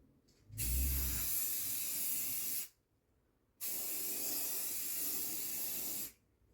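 Spray paint hisses onto a guitar body in two long bursts of about two seconds each, split by a short silent pause, close and steady with nobody speaking.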